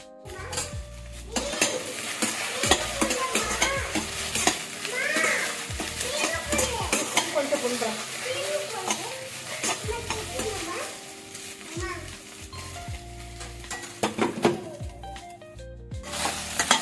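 Okra masala curry being stirred in a pan, with repeated scraping strokes of a utensil against metal over a soft sizzle, close and continuous, with occasional clinks and faint background voices.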